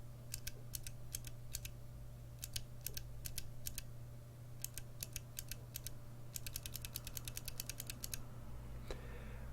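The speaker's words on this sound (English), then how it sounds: "the sound of a Cherry MX green, to the Gateron green" Cherry MX Green and Gateron Green mechanical keyboard switches are typed on, giving crisp, clicky keystrokes in short bursts and faster runs over a steady low hum. No one speaks.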